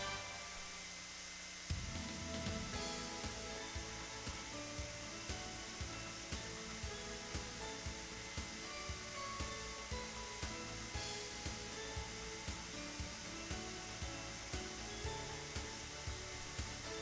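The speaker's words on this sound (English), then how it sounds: "Then vacuum the motherboard." A vacuum cleaner cleans dust off a PC motherboard. A steady, loud broadband whoosh starts about two seconds in and runs to the end, with faint regular pulses beneath it.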